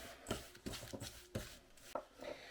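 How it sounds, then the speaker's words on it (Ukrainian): A knife slicing through smoked pork fat on a board, several soft irregular cuts and taps close by, with quiet scraping between strokes. "я відрізала шматочок, де е, м'ясо, і куштую м'ясо"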